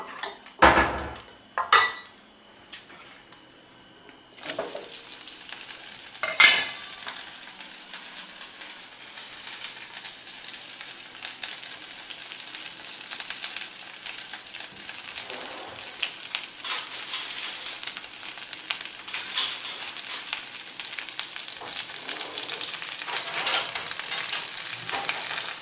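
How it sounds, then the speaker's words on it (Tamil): Okra is sautéed in oil in a pan, opening with a few sharp utensil knocks before a light crackling sizzle builds and continues, dotted with occasional stirring clinks. "இப்போ இந்த வெண்டைக்காயை வதக்கிக்கலாம்"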